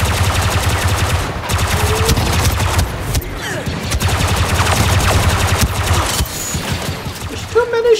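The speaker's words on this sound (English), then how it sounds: "There's too many shooting me!" Sustained blaster and gunfire from Star Wars Battlefront 2 battle, a steady dense barrage of rapid shots with occasional sharper bursts, close and loud throughout, with a player speaking over it.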